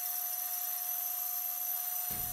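A bandsaw cuts glued wooden blocks for a speaker build, giving a steady high-pitched whine with a constant tone, close and unbroken, then a low rumble near the end.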